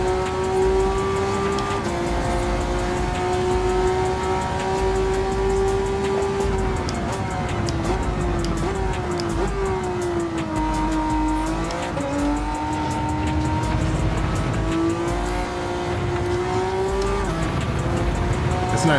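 A race car in Gran Turismo 7 holds a loud, sustained engine whine near 8,000 RPM, the pitch dipping and climbing through gear changes and corners, with faint tire squeal and no speech.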